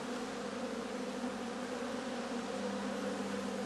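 Honeybees swarm around skeps at an apiary in late autumn, making a constant, close, droning hum with no breaks and no voices.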